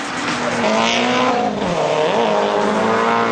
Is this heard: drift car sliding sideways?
yes